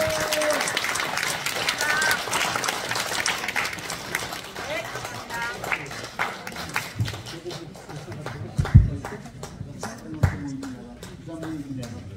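Audience applause at a badminton club's 32nd anniversary tournament and president inauguration ceremony: a burst of clapping that thins into scattered claps and taps, with a few louder knocks and voices in the room.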